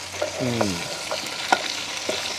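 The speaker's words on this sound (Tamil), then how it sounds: "மாங்காயும் இந்த எண்ணெயோடு சேர்ந்து நல்லா வதங்குவோம்" Raw mango pieces fry in oil in a pan, a sizzling hiss under stirring scrapes and short clatters from a spoon, heard close with no talking.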